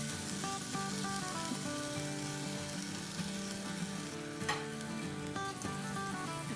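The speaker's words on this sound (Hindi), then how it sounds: "और अब हम इसमें डाल देंगे पैन में," Mutton seekh kebabs fry on a tawa over a stove with a drizzle of oil, giving a loud, constant close-up sizzle with small crackles throughout and no talking.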